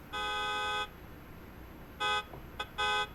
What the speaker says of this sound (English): you don't actually have like a true horn. It comes out of a speaker that's in the front right, and it's pretty quiet